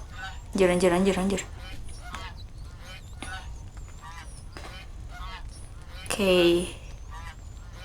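A goose honks twice in a video game animal-guessing round, two loud nasal calls a few seconds apart, with people talking and reacting throughout.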